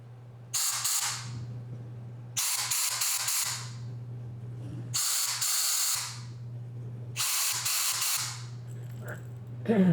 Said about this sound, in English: I'll get an air gun here too